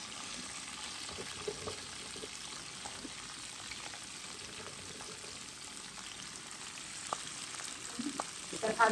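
Flat beans fry in hot oil in a pan, a quiet, continuous sizzle with scattered small pops and a few louder crackles near the end.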